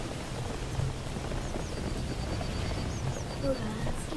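Steady hiss of rain in the Roblox game Horrific Housing fills the whole stretch at moderate level, with faint chirping sounds and low rumbling underneath, no voices.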